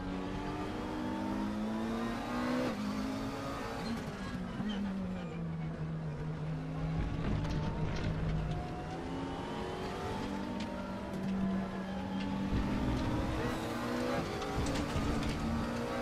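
Engine of a 2014 McLaren MP4-12C GT3 lapping the Nürburgring in RaceRoom, droning and rising through gears, dipping under braking and then revving up again, steady and close throughout.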